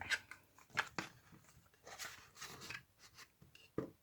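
Scissors snip paper for craft tags in a few quiet, close, irregular cuts, with soft rustling of paper between them.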